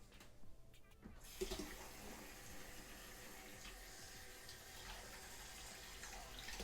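Hot water gushes steadily from a tap into a bathroom sink, starting abruptly after a second of quiet and then running in an even, close-up stream until the end.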